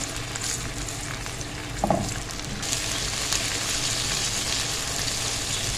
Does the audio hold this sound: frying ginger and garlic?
yes